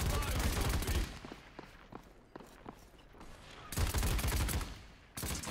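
In the shooter game Paladins, bursts of rapid gunfire crackle in dense volleys at the start and end. A sparser stretch of single shots and thuds falls between them, loud and close.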